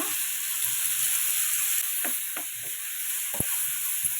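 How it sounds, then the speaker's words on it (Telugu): Tomatoes cook in oil in a pan with a steady high hiss of sizzling, broken by a few soft taps and clicks of a utensil, close and without talk. "కొంచెం ఆయిల్ వేసుకున్నాము. టమాటా మగ్గాలి కదండి."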